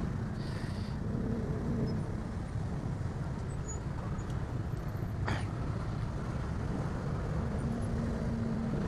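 Busy road traffic sends up a dense, steady roar of passing cars and larger vehicles, with a brief hiss partway through and no speech.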